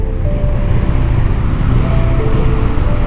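A motorcycle engine drone holds at a constant level for a few seconds while riding, with a low rumble and some wind noise, and nobody speaks.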